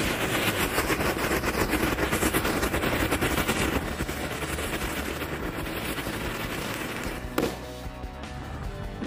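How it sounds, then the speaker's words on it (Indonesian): A black Happy Flower disco firecracker set in the ground goes off with a dense, continuous crackling burst of rapid pops that stays loud and steady for about seven seconds, then ends in a sharper bang and quieter fizzing. "Selanjutnya kita nyalakan mercon happy flower hitam"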